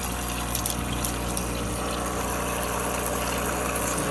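A Rancilio espresso machine dispensing hot water from its open wand gives a continuous pump hum layered with hissing, rushing water. It is steady and close for the whole span, with a few small clicks and no voices.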